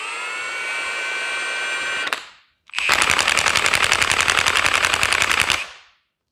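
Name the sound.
Milwaukee 2767 high torque impact wrench running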